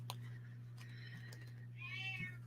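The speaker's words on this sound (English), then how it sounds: "my cat's going to start meowing" A pet cat meows once indoors, a short rising cry at moderate volume near the end, over a steady low electrical hum.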